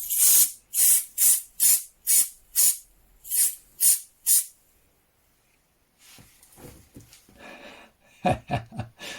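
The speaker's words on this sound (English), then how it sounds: "if you are wondering what I did, it's just compressed air" Nine short, loud hissing bursts of a compressed air can in quick rhythm, a pause, then a few more scattered sprays and rustles.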